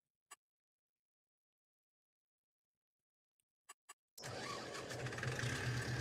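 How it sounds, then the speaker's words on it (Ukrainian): Zetor tractor engine in Farming Simulator 22 starts up after a few sharp clicks, then settles into a steady, loud running rumble that fills the rest of the stretch. "Сильний трактор."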